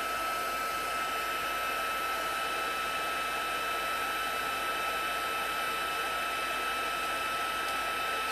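A heat tool blowing steadily as it heat-sets embossing powder on a card, an even, unbroken hair-dryer-like whoosh held close and constant throughout, no talking.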